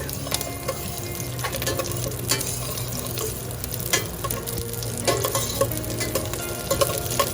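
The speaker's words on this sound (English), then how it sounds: "The oil is nice and hot. We have now reduced the flame to a medium flame. We're adding the pearl onion first." Pearl onions frying in hot oil over a medium flame, a continuous close sizzle with scattered stirring clicks and scrapes in the pan, steady throughout without any talk.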